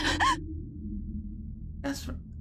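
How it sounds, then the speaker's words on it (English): A character in the Fate/Stay Night video game gives two sharp vocal gasps, the first at the start and another about two seconds later, with quiet background between them. "Caster gasps, stared at by those red eyes."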